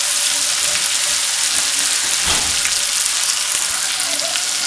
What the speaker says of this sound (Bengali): কতগুলো আছে ওগুলো ভাজবো।